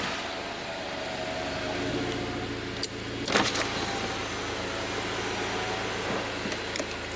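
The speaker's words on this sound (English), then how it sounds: "Let me turn all the windows down a minute." Car power windows being lowered, with a steady electric motor hum running for several seconds over a quietly idling engine, plus a brief clatter near the middle.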